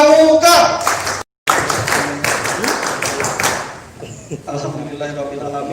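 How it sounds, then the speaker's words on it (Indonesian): A rhythmic scout clapping routine (tepuk pramuka) performed by a group at a Kalimantan Selatan scouting gathering: bursts of patterned hand claps, loud and close, mixed with voices and a brief cut-out partway through. "Tepuk pramuka."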